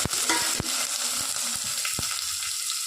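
Mustard seeds spluttering in hot oil for a drumstick gravy, a continuous close sizzle broken by a few sharp pops and crackles at irregular moments, no voices.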